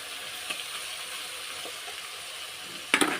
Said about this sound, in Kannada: ಎಣ್ಣೆಯಲ್ಲಿ ಇವಾಗ ಚೆನ್ನಾಗಿ ಫ್ರೈ ಮಾಡಿ